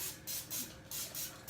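Cooking spray hisses onto a donut pan in four short bursts, each a soft aerosol spritz of about a fifth of a second, separated by brief pauses, quiet and close.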